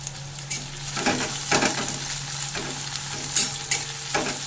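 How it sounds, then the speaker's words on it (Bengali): Chopped onion, ginger, green chili and garlic frying in hot mustard oil, a steady close sizzle with scraping stirring strokes at intervals, no talk. "তেল গরম হয়ে গেছে দিয়ে দেবো পেঁয়াজ কুচি এখানে আমি আদা কাঁচা লঙ্কা রসুন কুচি করে নিয়েছি সেগুলোও দিয়ে দিলাম"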